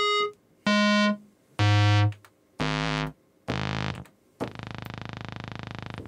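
Square-wave synth stepping down through lower octaves: a few loud, separate sustained notes that grow deeper and buzzier, ending in a long low, raspy, flatulent-sounding drone, heard alone with no voices.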